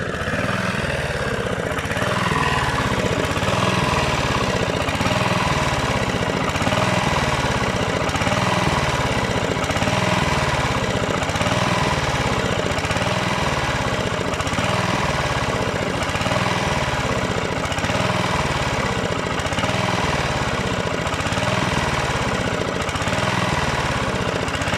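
A rebuilt Honda GV150 small four-stroke engine runs steadily at close range, its rapid, even chugging filling the whole stretch without pause, no voices over it.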